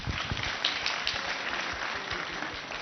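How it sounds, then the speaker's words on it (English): A large crowd at a UDA political rally in Kisii claps together for an official, a dense sustained roar of hands with a few sharper individual claps standing out near the front. "Let's clap for the SG properly"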